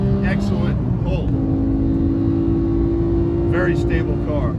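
A 2018 Porsche 991.2 GT3 with a manual gearbox pulls hard at high revs, its loud, steady engine note holding a strong tone with a brief shift partway through, while someone talks over it.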